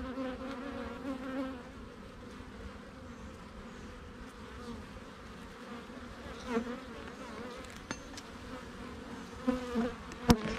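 Honeybees buzz in an open beehive holding capped worker brood, a dense, steady drone close by with individual bees flaring louder now and then, heard alone without talk.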